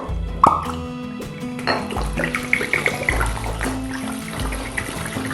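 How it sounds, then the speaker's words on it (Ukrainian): Spirit poured into a jar over blackthorn berries mixed with a little sugar: a liquid plop near the start, then a steady trickling, gurgling pour up close, with no talk. "І заливаємо оковитою, щоб терен повністю покрився."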